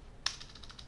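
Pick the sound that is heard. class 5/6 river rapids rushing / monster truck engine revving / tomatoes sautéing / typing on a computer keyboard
typing on a computer keyboard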